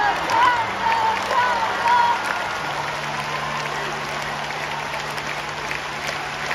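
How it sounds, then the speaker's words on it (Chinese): A concert audience applauding a singer, a sustained wash of clapping from a large crowd that fades a little over several seconds, with a faint voice over the top. "我听到这些掌声"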